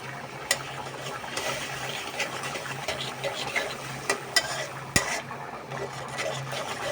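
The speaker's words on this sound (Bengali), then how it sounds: "তো এখন এটা আমি একটু কষাতে দিব যতক্ষণ এটা তেল উঠছে।" Spices with chili powder and salt frying in oil in a pan as they cook down: a continuous close sizzle with scraping stir strokes and occasional sharp clicks.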